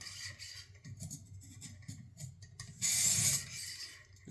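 Knife blade drawn over a 2000 grit stone on a Xarilk precision sharpener, with soft, repeated rasping strokes and one longer, louder sweep near the end.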